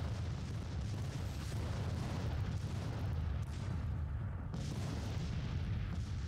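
Civil War cannon fire rumbles through a Grand Tactician: The Civil War battle, a steady, heavy low-pitched roar of distant artillery booms blending into continuous battlefield din.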